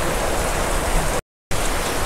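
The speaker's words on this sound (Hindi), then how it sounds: "चलो मैं आपको दिखाता हूँ जो भी बारिश हो रही है किस तरह से कितनी तेज़ बारिश हो रखी है" Heavy rain pours on a house at night, a dense, loud and steady hiss that stops for a moment and then returns just as strong.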